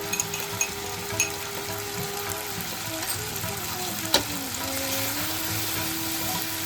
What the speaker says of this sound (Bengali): পেঁয়াজটাকে কিন্তু এবার ভালো করে কষাতে হবে